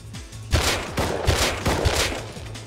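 Semi-auto rifle fire in the game Rust's military tunnels: several sharp, loud shots in quick irregular bursts with echoing tails, close and alone.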